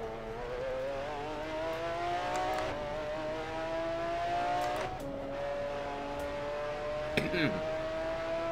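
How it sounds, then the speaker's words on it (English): A McLaren F1 GTR engine at Suzuka in the video game Assetto Corsa drones steadily, its pitch rising through gear shifts, with brief skipping stutters and a squeal near the end. "You hear this car skipping right there."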